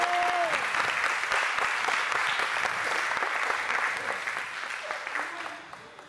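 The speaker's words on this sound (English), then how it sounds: "Yeah, I clap for my aunt as she makes her way." An audience at a live music performance claps steadily in dense, sustained applause that fades a little toward the end, with a voice speaking briefly over it near the start.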